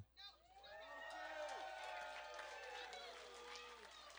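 Wedding guests at a private estate reception applaud and cheer for the flower girl, a soft wash of clapping and whoops beneath overlapping voices.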